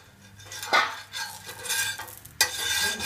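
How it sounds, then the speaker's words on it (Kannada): A ghee-topped fenugreek dosa is flipped on a hot pan: metal spatula scrapes and clinks ride over a gentle sizzle, with a sharper scrape partway through, close and without speech. "ಇದನ್ನ ತಿರ್ಸಿ ಹಾಕ್ಬಿಟ್ಟು 2 ಸೈಡು ಚೆನ್ನಾಗಿ ಬೇಯಿಸ್ಕೊಳ್ಳಿ."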